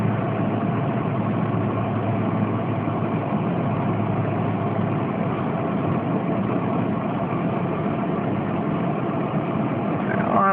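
Steady, close engine drone inside a car on the drive home, a constant low hum and road rumble that holds evenly throughout with no talking.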